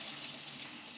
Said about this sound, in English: Just rinse it so it runs clear.